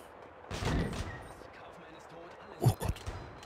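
Gunshots fired at red crates full of explosives in Max Payne 2 come as two separate bursts of sharp bangs, one early and one later, with talk over them.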